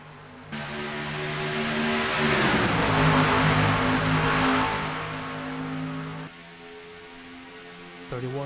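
A pack of race cars roars away from the green flag at Atlanta Motor Speedway in a racing game, engines rising into a loud, sustained multi-car drone before easing, with a commentator's voice over the start.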